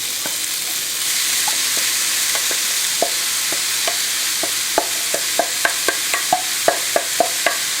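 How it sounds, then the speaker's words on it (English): Chopped yellow or white onions and garlic sauté in a hot pan, a steady broad sizzle with irregular sharp spatula scrapes and clicks punctuating it, close and fairly loud. "Just want to saute very quickly."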